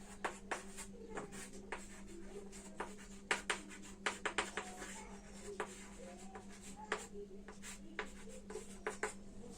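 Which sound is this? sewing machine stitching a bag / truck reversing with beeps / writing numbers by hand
writing numbers by hand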